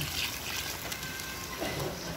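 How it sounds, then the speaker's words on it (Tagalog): Water poured from a container into a pot of batsoy, a Filipino noodle soup, swirling and rinsing what remains of pork blood in the container; a soft, steady trickling and splashing heard close up, with no talking. "lalagyan ko na rin siya ng konting tubig."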